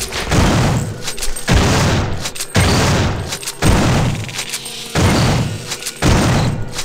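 A grenade launcher firing in System Shock 2, five loud heavy booms repeating at roughly one-second intervals, each with a short decaying tail.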